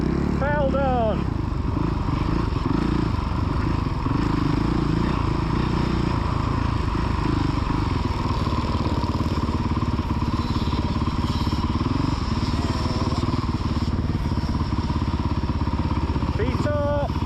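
A youth motocross bike on a dirt MX track, its engine droning and revving loud and close for the whole stretch, with a man calling out encouragement over the engine noise.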